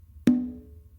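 A single open tone on a conga on the non-dominant side, struck sharply and left to ring with a clear pitched tone that fades over most of a second before another hit begins.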